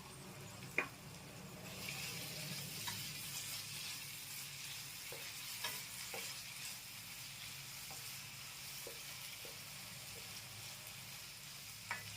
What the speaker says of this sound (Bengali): একটু নাড়া দেবেন দিয়ে ঢাকা দিয়ে দেবেন এটা হতে থাকবে